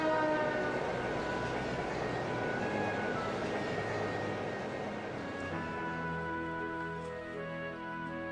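A train rolls along a long main line in the video game Trails of Cold Steel, a steady low rumble that carries on without a break, with a few faint tonal horn-like notes above it.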